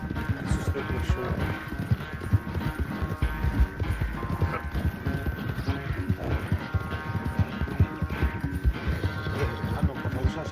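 Hooves of a horse galloping in the Red Dead Redemption 2 video game, a steady rapid clip-clop rhythm under faint game music and effects, with a voice speaking lightly now and then.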